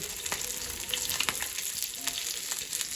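Fish fries in a hot pan with a steady, crackling sizzle and scattered sharp pops from spitting oil, heard close and fairly quiet with no talking.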